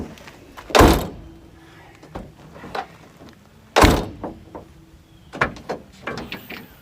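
A truck's rear hatch is opened with two loud heavy thunks of the latch and door, separated by smaller clicks, rattles and mechanical knocks nearby, with no speech.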